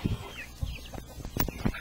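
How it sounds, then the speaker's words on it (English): Several chickens cluck and squawk in short bursts close by, an excited, irregular chorus of farm fowl calls with scuffling in between. "I just gotta collect my chickens here, get everyone excited"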